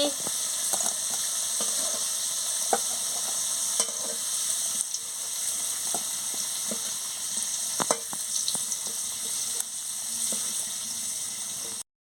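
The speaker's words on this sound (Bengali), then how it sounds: "ভালো করে কুমড়োটাকে আমি ভেজে নিচ্ছি" Pumpkin pieces frying in a pan for a sour silver carp dish, a steady moderate sizzle with occasional sharp clinks and scrapes of stirring, then cutting off at the end.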